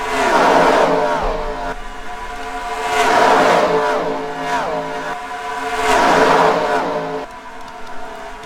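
Race cars hurtle down the Daytona backstretch in a NASCAR-style cup race, engines roaring loud and close in three sweeping pass-bys that rise and fall in pitch, one after another.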